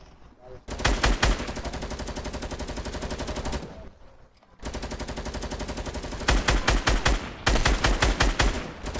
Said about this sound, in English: Are they trying a grenade launcher?